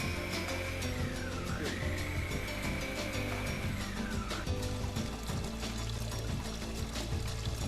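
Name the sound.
water pouring to wash food processor parts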